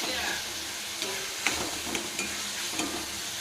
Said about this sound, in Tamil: இந்த ஆனியன் நல்லா வதங்கினதுக்கப்புறமா ஆனியன் இந்த தக்காளியெல்லாம் நல்லா வதங்கணும்